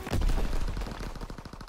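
A mounted gun in a WWII video game fires a fast, loud burst of rapid shots close by, the repeated reports slowing slightly toward the end.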